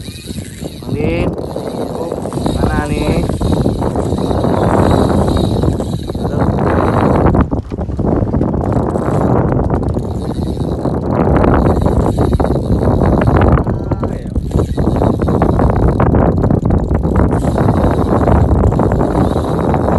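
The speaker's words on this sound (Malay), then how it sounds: "Angin." Wind gusts roar steadily across a fishing boat at sea during a jigging trip, a loud broadband rush that persists throughout, with people talking over it.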